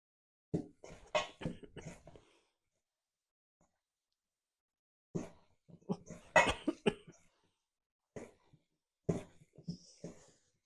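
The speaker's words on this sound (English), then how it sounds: "Making me cough." Two fits of harsh, close coughing from strong spice fumes while mixing Swedish meatballs, separated by a quiet pause, with a couple of shorter coughs trailing after.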